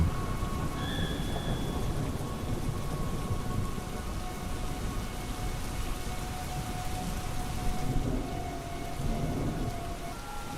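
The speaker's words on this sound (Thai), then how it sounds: "โดยกลางดึกคืนนั้น ก็ได้มีฝนตกลงมา จากตามข่าวว่าพายุเข้า และคงจะตกเช่นนี้ทั้งคืน" Heavy rain pours steadily at night during a storm, a constant, loud wash of drops with a low rumble of thunder underneath and a faint tonal whine drifting through.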